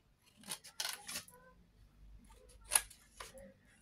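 Scissors snipping paper while trimming a Tic Tac box scrapbook project, a few crisp close cuts in quick bursts with pauses between, no talking.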